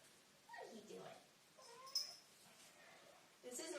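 A house cat named Mama Kitty meows softly at close range, with a few short plaintive cries among faint background sounds.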